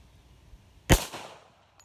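A single loud pistol shot from a Rock Island Armory M1911-FS GI Standard fired outdoors at a paint can target, a sharp crack with a short decaying echo, then quiet.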